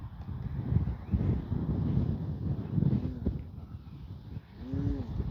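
Strong gusty wind buffets the microphone at an RC plane flying field, a continuous low rumbling roar that rises and falls in surges, with a faint whine from the model aircraft near the end.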